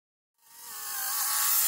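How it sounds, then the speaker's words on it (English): A saw rips a sheet of baltic birch plywood into strips, a bright whining cut that starts after a short silence and swells steadily louder as the blade bites in, with no voices. "I started cutting down the sheet into more manageable sizes, and then started ripping it down into strips"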